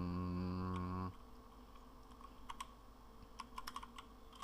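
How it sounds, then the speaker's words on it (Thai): Sparse, quiet clicks of keys typed on a Windows 10 computer keyboard follow a short steady tone at the start, with a few keystrokes in irregular bursts. "เดี๋ยวผมลองพิมพ์สักตัว2ตัวเลยก่อน"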